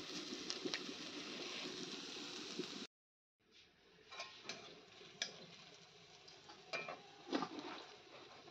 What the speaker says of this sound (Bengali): আজকেও আলু ভাজা।